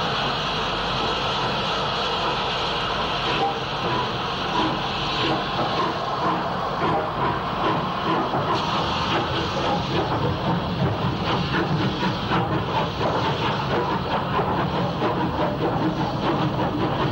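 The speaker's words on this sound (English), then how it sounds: "Three 34061, 73 Squadron, is on the 105 departure for Waterloo." Steam locomotive 34061 "73 Squadron" pulls away on a departure for Waterloo, a steady broadband rush of steam and rolling rail noise that carries on unbroken throughout, with faint clicking of wheels over the track.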